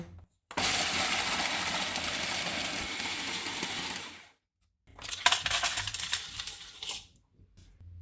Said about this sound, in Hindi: मखाने डालेंगे, काजू, पिस्ता, बादाम और अखरोट। इनको मोटा मोटा चॉप करेंगे।